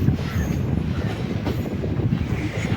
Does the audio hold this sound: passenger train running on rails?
yes